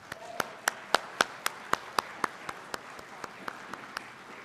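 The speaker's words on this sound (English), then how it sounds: "Can we give our staff a round of applause for what they've done to make that happen?" About fifteen sharp, evenly spaced claps ring out in a slow steady rhythm, like a small scattered round of clapping in a large room at a Spring Equinox service.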